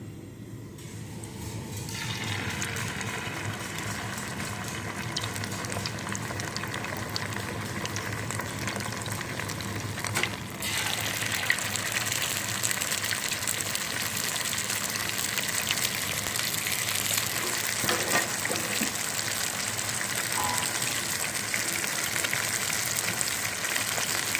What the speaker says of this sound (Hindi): ये देखें हमारा चिकन फ्राई हो रहा है।